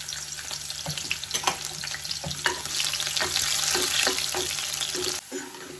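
Chopped onions dropped into hot oil for a spicy Telangana brinjal gravy, a close, steady sizzle punctuated by stirring scrapes and clatters, then a brief drop-off near the end.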